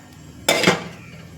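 A single metallic clank of a lid set onto a pot, short ringing decay, near and fairly loud against a quiet background.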